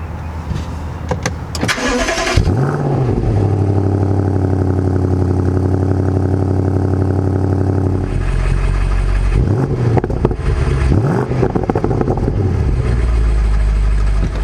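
A 2022 BMW M550i xDrive's 4.4-liter twin-turbo V8 cranks and fires up with a loud roar, settles into a deep rumbling idle, then gets several sharp throttle blips with a heavy V8 growl.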